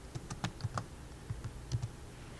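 Typing on a computer keyboard while writing a letter in Microsoft Word, with soft, irregular key presses in small clusters, close and faint over a quiet background hiss.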